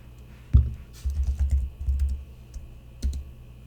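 Typing on a computer keyboard while entering a word, a sharp first keystroke followed by a quick run of soft, close clicks, then a pause and one final tap.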